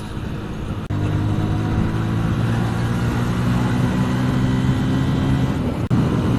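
An old Yamaha Vixion motorcycle holds high revs during a fast night ride, giving a loud, steady engine drone that runs for about five seconds without a break. It cuts in sharply near the start and stops abruptly near the end.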